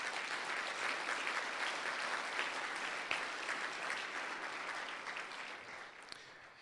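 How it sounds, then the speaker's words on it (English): A State of the City audience gives a round of applause to the city's Director of Parks and Recreation and Cultural Services and his team, a steady, full crowd clapping heard from a distance at moderate volume. "Let's give a round of applause for our Director of Parks and Recreation and Cultural Services, Mr. Jeff Muck, and his team."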